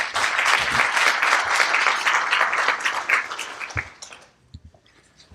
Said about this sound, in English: Please give him a round of applause as he comes forward.